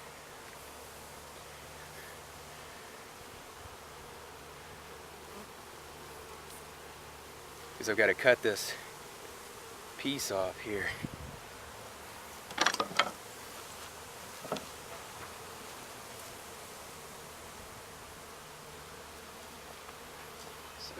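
A steady swarm of honey bees drones throughout as a hive is relocated to a top bar hive, with someone speaking briefly and sharp tool noises from cutting hive parts breaking in.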